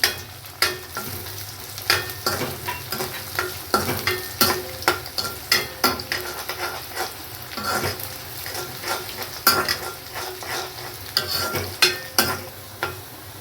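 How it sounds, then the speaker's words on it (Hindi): Chopped green chillies and ginger fry with dry black chickpeas in a pan, steady sizzling under repeated rhythmic scrapes and knocks of a spoon stirring, close up and without talk. "देखिए थोड़ी कटी हुई हरी मिर्च डाल रही हूँ इसके अंदर।"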